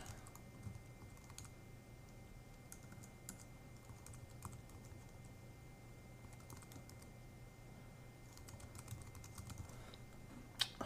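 Keys clatter on a computer keyboard while an email address is typed in a quiet room, a soft, fairly fast, uneven stream of clicks with a brief louder tap near the end.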